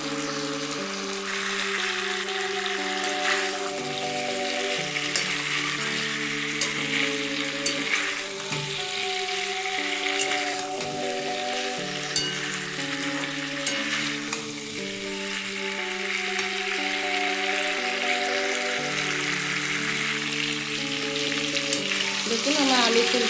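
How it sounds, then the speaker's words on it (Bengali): Cauliflower and potatoes sauté with tomato ketchup in a pan, giving a steady, even sizzle that runs throughout beneath continuous background music. "দিয়ে একটু ভালো করে কষে নিচ্ছি এতে কোনো টমেটো দিইনি আমি হচ্ছে টমেটো কেচাপ দিয়ে দিচ্ছি"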